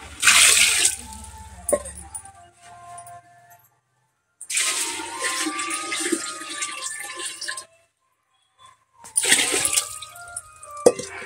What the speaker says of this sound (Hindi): अब इसमें डाल देंगे पानी